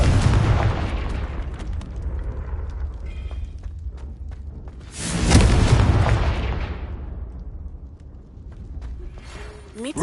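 Confringo blasting spells in Hogwarts Legacy burst with loud booming explosions, one heavy blast at the start and another about halfway through, each rumbling and fading into a low crackling tail.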